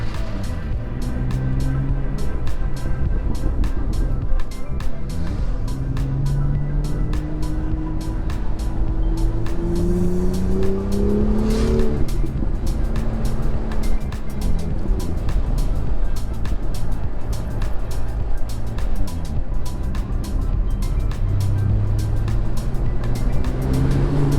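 Car driving on a winding mountain road through clouds, engine revving up and down through the gears in repeated rising pitches, with steady road rumble and some speech.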